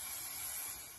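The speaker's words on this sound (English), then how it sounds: "So I'm using a spray adhesive, which is quite good for this," Spray adhesive hisses from a can onto plywood boards for a model motor yacht build: one short, steady, fairly quiet spray burst.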